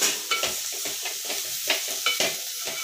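Dried shrimp (javla) fries in oil with chili and coriander while being stirred, giving a close, busy sizzle broken by rhythmic scraping strokes every half second or so.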